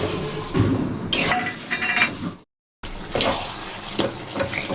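Water used to rinse a grinding stone is poured into a pan holding poppy seed paste, potatoes and tomatoes, giving close splashing and trickling with a few clinks of utensils, broken by a brief silent gap.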